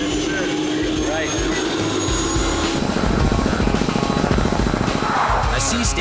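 Helicopter in flight over an offshore fish farm's sea stations, a steady close rotor and engine roar filling the whole stretch while people talk underneath.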